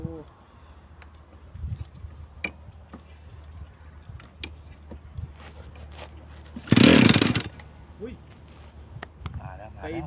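A 26cc gasoline engine on an RC plane, fitted with a pipe exhaust, roars loudly in one brief burst of under a second. Quiet handling clicks and rustles come before and after it.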